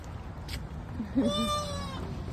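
A cat gives one drawn-out meow near the middle, close and fairly clear, over a low background hum.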